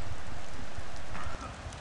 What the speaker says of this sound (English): The next morning came and the rain was falling, the birds were singing